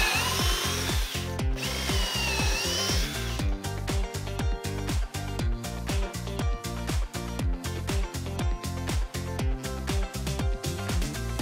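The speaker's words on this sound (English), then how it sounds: "We are using our Craig jig to drill the pocket holes from the outside of the cabinet panels" A power drill whirs in quick repeated bursts, boring pocket holes with a jig into wooden kitchen cabinet panels with a steady start-stop rhythm, close and loud.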